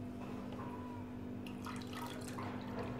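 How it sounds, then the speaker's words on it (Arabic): Three glasses of warm water poured into pizza dough ingredients of flour and olive oil, a faint steady trickle with small splashes over a constant low hum. "وغادي نضيف كذلك ثلاثه الكيسان ديال الماء الدافئ"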